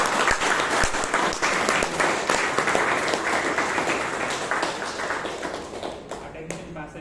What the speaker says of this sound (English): what Mom deserves is a round of applause for Mom